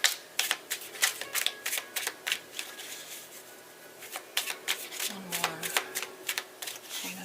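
Tarot cards are shuffled up close in quick, crisp bursts of riffling flutters and taps, in a repeating rhythm across the clip with brief pauses between shuffles.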